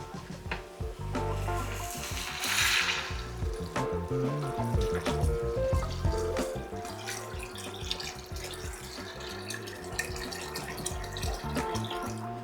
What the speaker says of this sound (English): what we're going to do is basically just cover this with water